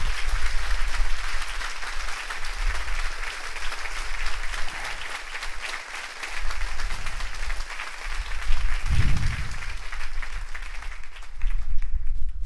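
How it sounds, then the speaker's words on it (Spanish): A church congregation claps with vigor, a dense, continuous wash of applause that swells and dips, with a brief low voice or shout partway through. "Si le va a aplaudir a Dios, hermanos, apláudele con todo su corazón a Dios."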